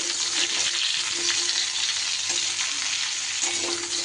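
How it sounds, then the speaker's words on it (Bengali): Pumpkin and ridge gourd stir-fried in a pan for a spice-free vegetarian dish, a steady loud sizzle with periodic scraping stirs of the spatula throughout, no talking. "এইবার আমি কুমড়ো আর ঝিঙেটা দিয়ে দিলাম। এগুলো দিয়েও বেশ ভালো করে নাড়াচাড়া করে নেব সবজি।"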